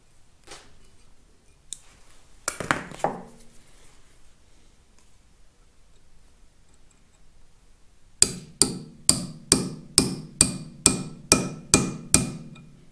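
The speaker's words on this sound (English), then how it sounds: "Final step now, drive in the dowel, and I'm using some sleeve retaining Loctite on it just to give it a little bit more help." A dowel is hammered into a Caterpillar D2 pony engine block: after scattered quiet clinks and handling, about ten sharp metallic hammer blows ring out in a steady, even rhythm, close and loud.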